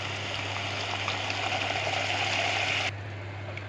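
Water pours steadily into a pot of rice with vermicelli, a close, continuous rushing splash that drops off abruptly near the end, leaving a softer trickle.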